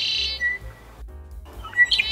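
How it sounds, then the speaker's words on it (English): A male red-winged blackbird perched on a feeder pole in early spring gives loud, clear chirps and a trilling call, with brief bursts near the start and a sharper call toward the end. "the first male red-winged blackbird arrives here in March, sits atop our feeder pole, and announces its arrival very loudly"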